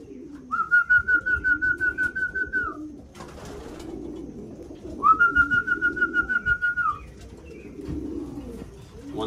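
Racing pigeons in a loft give two long, steady rolling coos, each lasting a couple of seconds, close and fairly loud over a low murmur of background shuffling and faint cooing.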